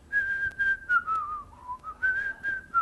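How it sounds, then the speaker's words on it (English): A person whistles a song melody alone, a clear bright tune of several phrases with short pauses, close and steady with no talking. "I would always whistle the tune."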